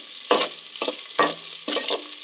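Onions sizzling in hot oil with mustard seeds and chillies in a pan, a steady hiss broken by four loud stirring scrapes, close and with no talking.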